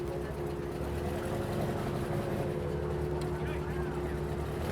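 The very first Porsche car, a museum piece, runs with a steady low engine rumble as it pulls away in first gear at a busy Rennsport gathering, with people talking over it.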